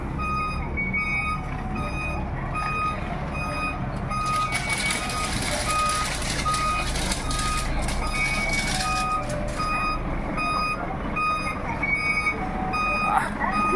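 Repeated reversing beeps ring out steadily from a Rhea Trucking truck from Davao, a loud, regular electronic pattern over constant engine rumble and street noise.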